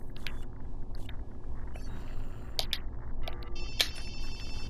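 A phone ringing in the video game Watch Dogs 2, with repeated electronic ring bursts over a steady low rumble, fairly clear and with no talk.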